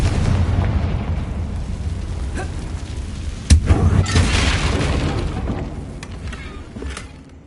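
A Confringo fire spell explodes in Hogwarts Legacy, a sudden booming blast that rolls into a long, crackling rumble over steady game ambience, loud and fairly close.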